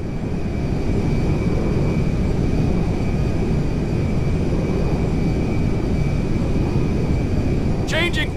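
A Meriwether cargo jet in GTA 5 roars steadily and loudly overhead for the whole stretch, a constant broad engine rush with a brief high chirp near the end.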